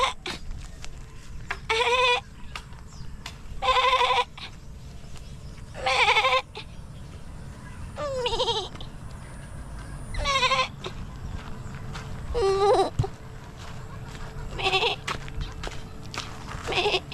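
Goat bleats ring out in repeated loud, wavering calls spaced every couple of seconds, with quieter farmyard rustling and faint footsteps between them.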